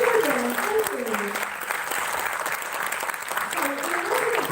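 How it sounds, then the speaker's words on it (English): Audience applause for children at a musical theatre announcement event, a sustained patter of many hands clapping throughout, with faint tonal music and some voices underneath. "let's give another round of applause for the wonderful children"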